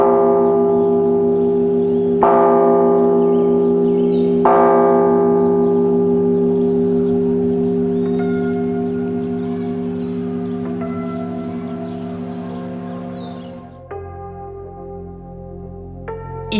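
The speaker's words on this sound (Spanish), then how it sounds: "Así sonó la campana el 25 de mayo de 1810." A colonial church bell in Luján rings out loud and near, sustained tolling with fresh strikes around two and four seconds, its long ringing decay fading slowly before a softer, different tone near the end.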